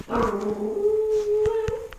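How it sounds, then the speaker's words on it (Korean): A puppy howls in a long, sustained, wavering cry lasting most of two seconds, close and fairly loud, ending with a couple of short whimpering yips. "저희 강아지 강아지."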